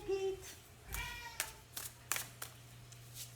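A pet cat gives a faint, short meow indoors, followed by a few soft clicks and taps in a quiet room.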